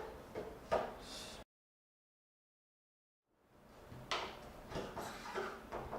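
Cardboard box of an Elgato HD60S capture device being opened sideways, with soft sliding and scraping of the flap and packaging, then a short silent gap before more quiet rustling and handling.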